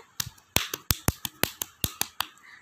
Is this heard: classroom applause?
yes